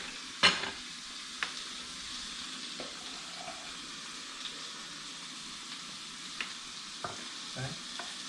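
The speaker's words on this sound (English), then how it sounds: "The sausage is nice and brown, and some beautiful Kerrygold butter in that skillet right there." Venison sausage browns in Kerrygold butter in a skillet, a soft steady sizzle with occasional light clicks and scrapes of stirring, quiet and close with no talking.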